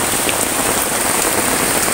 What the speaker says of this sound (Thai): บรรยากาศตอนนี้นะครับพี่น้องฝนตกหนักมากเลยนะครับ